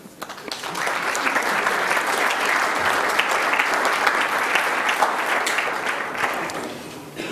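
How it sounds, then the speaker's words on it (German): Sustained applause from a conference audience after a German-language talk on cyberpeace at the 29C3 hacker congress, a dense steady clapping that swells quickly and holds at an even level for about seven seconds. "einen kräftigen Applaus"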